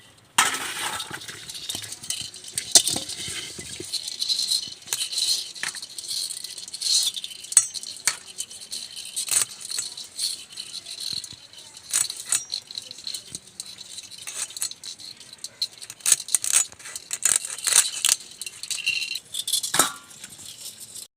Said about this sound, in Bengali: এবার বাকি কাঁকড়াগুলো আমি একই রকম করে কেটে নেব।